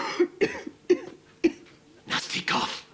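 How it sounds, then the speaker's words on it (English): A person lets out a series of four sharp, close coughs in quick succession, followed by a rougher, breathy hacking fit. "Nasty cough."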